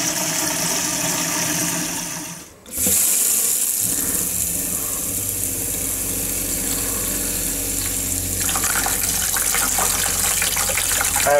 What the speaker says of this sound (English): We'll just empty it out into a bucket and then flush it out a few times.